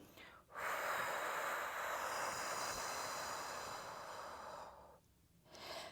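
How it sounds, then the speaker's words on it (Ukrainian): A long, breathy exhale through pursed lips during a Pilates exercise, close and soft, lasting several seconds before a brief pause and the start of another breath. "видих через губи трубочкою"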